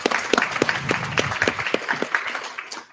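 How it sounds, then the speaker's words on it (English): Brief applause at a Social Security live-streamed event, a smallish audience clapping in an uneven, fairly close patter that thins out and tapers off within a few seconds. "Round of applause for Carolyn, please"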